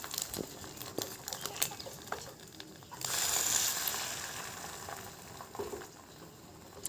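Bread dipped in beaten egg fries in a little oil in a pan, a faint, close sizzling hiss with scattered crackles that swells louder for a few seconds partway through.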